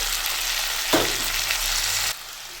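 Oil sizzling steadily in a pan while frying for restaurant-style butter chicken, with a brief stirring scrape partway through before the sound drops off, close and loud with no talk.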